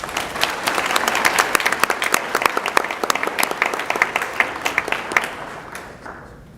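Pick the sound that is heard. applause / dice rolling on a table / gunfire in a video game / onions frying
applause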